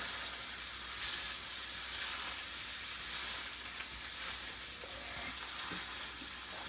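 Fajita meat with seasoning stirred and frying in a pan gives a loud, dense, continuous sizzle with scattered scraping stir sounds throughout, and no talk.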